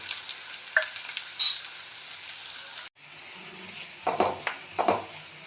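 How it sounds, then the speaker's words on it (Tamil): Pieces of adamant creeper (pirandai) stem sizzle steadily in hot oil, with occasional scrapes and clinks of a utensil stirring the pan. "நறுக்கிய பிரண்டை துண்டுகளை போட்டு நன்றாக வதக்கவும்"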